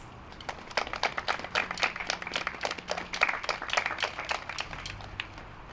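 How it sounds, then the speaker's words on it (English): A middle school audience claps for veterans at a ceremony, a few seconds of distinct, moderately loud clapping that swells then tapers off, with no talk over it. "Let's give them a quick round of applause."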